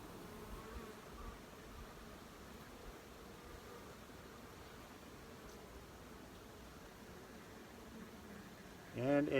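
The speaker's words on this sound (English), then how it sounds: "I'm looking at least 5 to 6 frames of bees on it." Honey bees buzz steadily in an open colony with five to six frames of bees and brood, a soft, continuous hum throughout, ending with a brief louder rustle.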